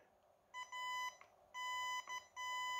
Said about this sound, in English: we either get a tone to show signal is present or no tone when there's no signal present